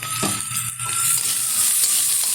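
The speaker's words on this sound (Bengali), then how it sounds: "ভালোভাবে পেঁয়াজের সাথে মশলাটা কষিয়ে নিচ্ছে" Spices and onions sauté in a hot pan, a steady bright sizzle with soft stirring running throughout, close and fairly loud, no voices.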